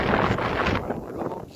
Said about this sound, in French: Le vent qui se lève à nouveau.